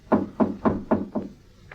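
Five firm, evenly spaced knocks on a hotel room door in a radio drama, close and crisp, followed by a faint sixth tap after a short pause.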